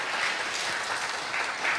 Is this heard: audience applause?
yes